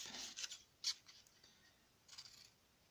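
Scissors snip through paper while making a handmade paper box, a few short crisp cuts, close and fairly quiet, with soft rubbing of paper between them.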